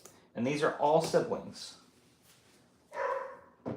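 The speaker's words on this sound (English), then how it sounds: "Sorry about the dog again." A dog barks indoors in short bursts during talk about pet pythons, the yaps sitting under and between a person's speech.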